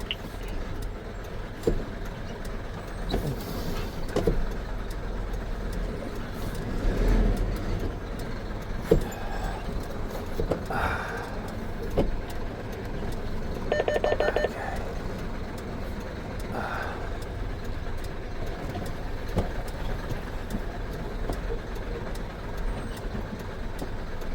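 A video game vehicle pushing through in reverse gear after getting stuck on a bridge, heard as a steady, rumbling motor drone with scattered clunks and a brief louder surge midway, with no voices.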